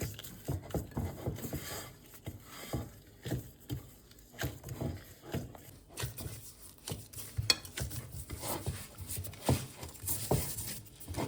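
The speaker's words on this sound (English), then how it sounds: "So keep on mixing and kneading it until it's nice and smooth." Aloo naan dough being kneaded in a bowl, with soft, irregular squelching and patting at close range, and occasional light scrapes against the bowl.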